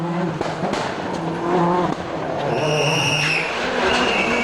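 A 2002 rally car at Rallye Deutschland attacks a 90-degree left corner, engine revving hard with gear-shift dips and a sharp tire squeal as it slides through the bend, loud and close.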